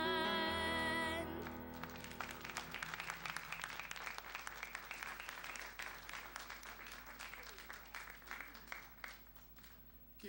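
Audience applause at a Labour Day launch event rises after a burst of singing or music at the start, then carries on as steady dense clapping for about ten seconds, gradually thinning toward the end.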